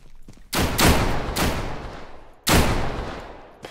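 Gunfire in Deadside around a harbor, with three loud, close shots at uneven intervals, each followed by a long, rolling echo that fades slowly.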